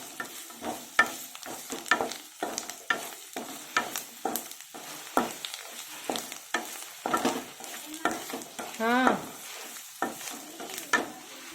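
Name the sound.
garlic frying and being stirred in a pan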